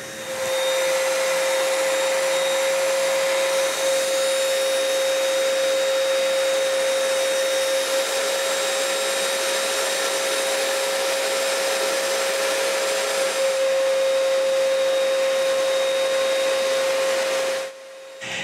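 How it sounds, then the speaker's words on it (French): A paint sprayer applies a second coat of varnish to wood furniture, a steady, loud motorized hiss that runs continuously without a break before cutting off abruptly near the end. "Ensuite, je peux vaporiser la deuxième couche de vernis."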